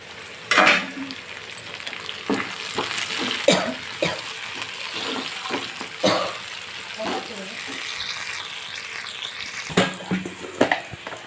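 Tomatoes sizzle and fry in a pan for carrot rice, with stirring scrapes and clatters over steady frying noise. Spoken talk runs intermittently through it.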